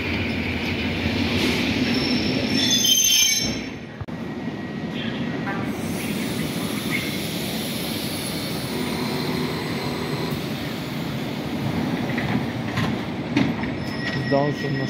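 A train pulls out of Tarnów station bound for Krynica, wheels squealing and rumbling nearby, with a loud passage easing after a few seconds into a steady rolling clatter and a faint voice in the background.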